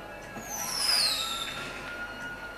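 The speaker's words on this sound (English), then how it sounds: "Wait, what was that? Fireworks?" Fireworks in the video game GTA 5: a single rising whistle climbs and fades over about a second, followed by softer distant crackles against a quiet background.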